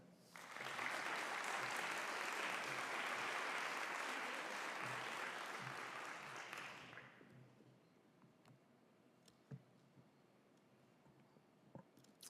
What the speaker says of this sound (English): please join me in a loud round of applause for Zanib.